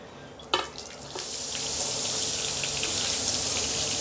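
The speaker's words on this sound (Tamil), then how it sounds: "இதை வந்து நல்ல தண்ணி வச்சு இந்த மாதிரி ஒரு வடிகட்டி மூலம் இதை" Water runs and splashes through a kitchen strainer as herbs are rinsed, opening with a short clatter and then settling into a steady hissing flow.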